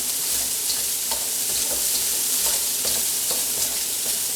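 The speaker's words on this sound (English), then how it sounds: "You think that it's not cooking because there's not a lot of sound, but it's frying." Steady, dense frying hiss of rice in a wok, with occasional soft scrapes and light clicks of stirring, fairly close and continuous with no talking.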